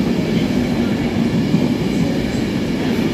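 Avanti West Coast Class 390 Pendolino 390148 passes slowly through Stockport station, a steady, continuous low rumble of the electric train rolling by close at hand, with no talking.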